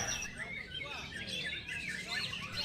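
A white-rumped shama (murai batu) sings in a rapid run of chirps and whistled phrases, fairly faint, with a voice talking over the song.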